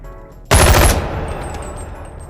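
A single sharp, loud rifle shot fired in the VR game Bonelab, a sudden close blast with a brief crackling burst that decays into a fading echo, with no voices.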